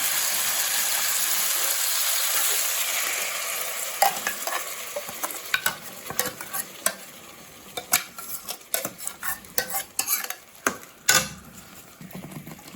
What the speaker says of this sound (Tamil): இப்போ அரைச்சி வச்ச மசாலா இதில் சேர்த்துக்கலாம்